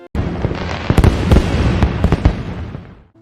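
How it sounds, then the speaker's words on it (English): Theme park fireworks seen from a parking lot burst in a rapid series of sharp cracks and booms over a dense rumbling wash, loud and continuous, with no talking. "Suddenly, the theme park fireworks started."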